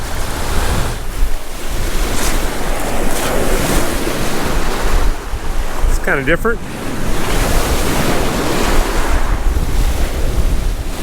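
Lake Superior waves wash steadily onto a beach with gusty wind across the microphone, and a person speaks briefly over the surf.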